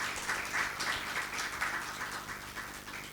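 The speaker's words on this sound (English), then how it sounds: "Let's all welcome him with a huge round of applause" An audience at the Kitaab Gurugram literary event claps to welcome Lord Meghnad Desai, a faint, steady patter of many hands heard from a distance.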